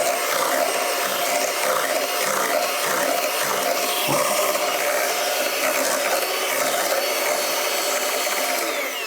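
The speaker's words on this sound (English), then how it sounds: "We're going to blend these ingredients together." Electric mixer blending cheesecake ingredients, including vanilla extract, in a bowl: a continuous, loud whirring and rattling that runs steadily throughout.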